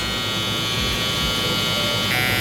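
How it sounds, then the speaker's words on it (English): An electric shaver buzzes steadily and close up while cutting hair for a low taper fade, a continuous loud hum with no talking. "So I know how high to go up with the shaver."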